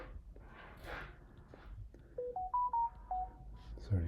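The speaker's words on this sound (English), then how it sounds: "excuse my phone in the background there" A phone rings faintly in the background of a server lab, a short stepped electronic melody of rising and falling tones over low room hum, distant and quiet.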